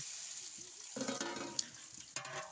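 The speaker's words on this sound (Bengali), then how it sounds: "সুন্দরভাবে পেঁয়াজ রসুন জোসাই নেবেন" Onion and garlic fry in a large pot for a ten-kilo batch of beef tehari, a steady sizzle that swells louder partway through and is broken by a few stirring knocks.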